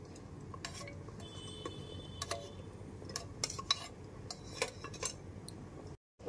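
A spoon scrapes and clinks against a pot while mutton curry is mixed after salt goes in, irregular light metallic knocks and scrapes over a low background hum, close but quiet.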